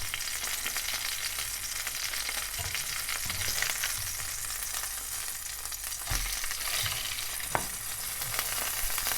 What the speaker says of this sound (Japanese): 油をフライパンに、はい、そして、チキンを入れました